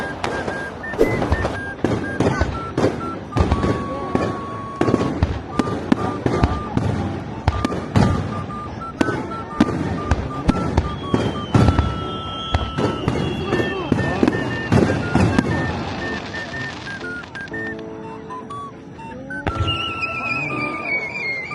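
Rapid bursts of fireworks in Japan crack and boom one after another, some whistling overhead, with people talking and exclaiming underneath.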